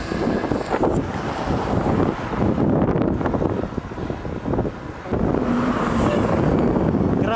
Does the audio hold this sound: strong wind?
yes